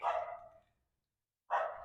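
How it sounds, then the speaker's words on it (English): A neighborhood dog barks twice at a house in the Fox Farm area of Big Bear Lake, each bark loud and fairly close, with a silent gap between them. "So you have a nice neighborhood dog"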